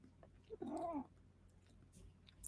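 A house cat gives a single drawn-out meow up close, surrounded by quiet room tone and a few faint rustles.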